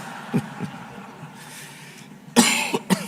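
A speaker coughs several times in short bursts at a closing ceremony of a mining congress, with harsh coughs near the start and a louder cluster toward the end, separated by quiet room tone.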